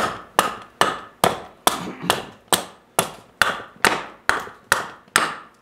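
A carving axe chops down timber stock in eleven sharp, evenly spaced strikes, each a crisp woody thwack with a short decay, close and loud with no talking.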